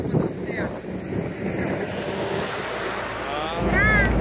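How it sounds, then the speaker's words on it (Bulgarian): A boat passes through the Corinth Canal in Greece, its wash and engine blending with steady wind buffeting the microphone and lapping water, while people talk nearby and the rumble swells toward the end. "А, идва лодка."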